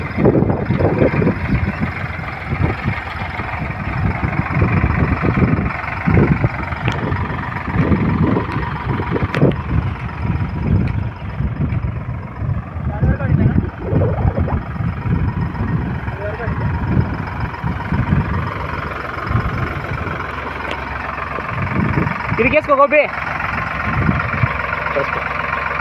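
A tractor engine runs steadily while it sprays pesticide over a maize crop, its low rumble throbbing near and loud with wind buffeting the microphone, and a man calls out briefly over it.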